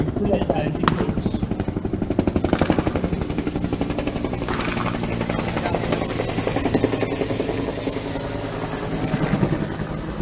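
A Philippine Air Force military helicopter flies overhead with a fast, steady rotor chop and engine whine, loud and near the whole time, while a voice speaks over it.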